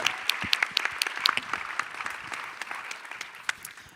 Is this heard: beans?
no